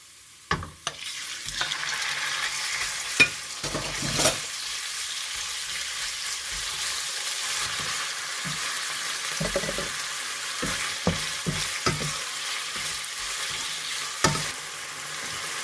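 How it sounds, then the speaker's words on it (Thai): A steady loud sizzle of chicken frying in a wok, punctuated by occasional scraping stirs of a spatula. "พอกระเทียมหอมแล้วก็สุกเหลืองแล้วก็ใส่ไก่ลงไปผัดเลยค่ะ"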